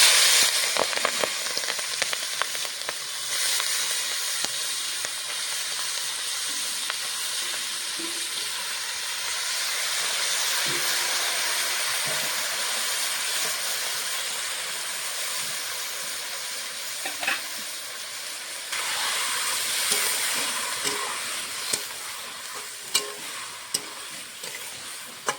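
Small fish and mixed vegetables fry together in white oil in a wok, making a loud, continuous sizzle and hiss with scattered scraping and stirring clicks throughout.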